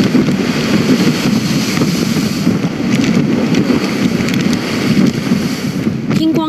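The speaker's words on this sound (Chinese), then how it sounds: "港岛杏花村隔离涌上岸的浪花差不多和灯柱一样高，一浪未平，一浪又起" Typhoon Talim drives waves ashore at Heng Fa Chuen, Hong Kong, sending spray nearly as high as the lampposts. A loud, continuous surging roar is heavily buffeted by wind across the microphone for the whole stretch.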